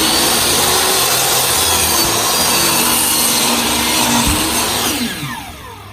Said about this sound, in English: Now I'm just gonna pull this down to the saw, get everything up against the fence in the back like it should be.